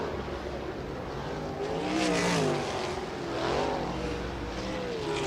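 Sprint race cars lap a dirt track during a hot lap session, engines roaring in a dense continuous wash of sound that swells twice as cars pass nearby, loud and without talk.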